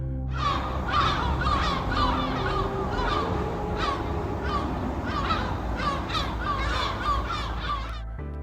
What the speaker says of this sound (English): Birds gather at the waterline.